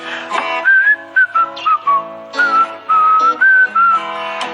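A bright, clear whistled jingle melody of short phrases and held notes, close and alone, with brief pauses between phrases.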